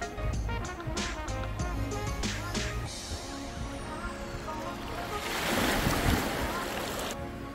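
Ocean waves at a Costa Rica beach wash in with a broad, rising surge of surf and wind noise, preceded by some knocking sounds, with no talking.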